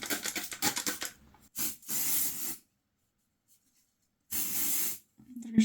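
Aerosol spray can being used on hair, several short hissing bursts of varying length separated by pauses and quiet handling noises, close and fairly loud.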